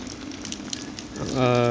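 Heavy monsoon rain pours steadily in Ambhore village, Sangamner taluka, a dense, even hiss close by, with a voice rising briefly near the end.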